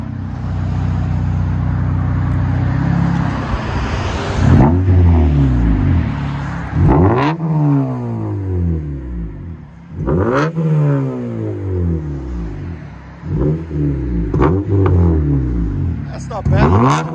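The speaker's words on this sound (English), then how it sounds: "Acura TSX 2013 MAGNAFLOW MAGNAPACK and rear muffler delete." A 2013 Acura TSX with a 2.4L four-cylinder and dual Magnaflow exhaust with rear muffler delete revs up repeatedly in sharp, loud bursts that fall away between blips, close by, with people talking over it.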